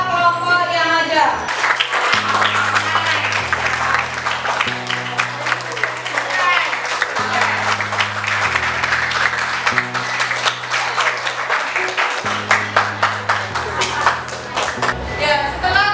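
A classroom group claps in sustained, dense applause for group responses, continuing steadily for the whole stretch over a low tonal background.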